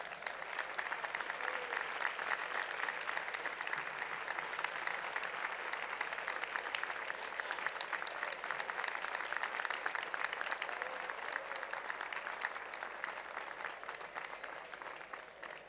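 Sustained audience applause at a civic honours and distinctions ceremony in Valdepeñas, a dense, steady clapping from a large crowd lasting the whole stretch and thinning slightly toward the end.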